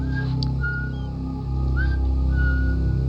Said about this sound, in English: He leaves real casual-like, whistling his favorite tune.